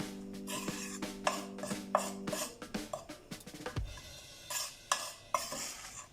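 A flour mixture for a chocolate cake is stirred in a bowl, giving close, irregular scraping and clinking strokes with soft knocks and no voices.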